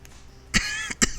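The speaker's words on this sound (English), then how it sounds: "Bloody cough." A person gives two quick, close coughs a moment apart over a quiet indoor background, with no speech.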